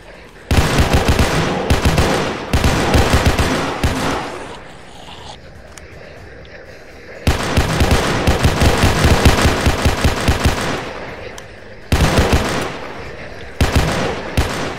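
Rapid rifle fire in a Roblox shooter, loud and close, coming in several long bursts separated by brief lulls.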